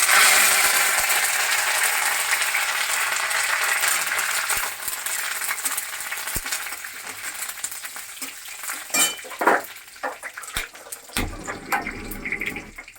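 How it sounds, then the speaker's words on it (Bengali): Curry leaves and dried red chillies frying in hot oil for a Bengali tomato pickle, giving a loud, dense sizzle that gradually fades and breaks into scattered crackles and pops toward the end. "কারি পাতাগুলো আমি তেলের মধ্যে দিয়ে দিচ্ছি"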